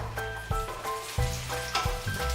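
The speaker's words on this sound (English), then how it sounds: "mushrooms are just starting to sizzle away now." Mushrooms sizzle steadily in a hot pan, with occasional scrapes and knocks of a spatula stirring them and a faint tonal hum behind.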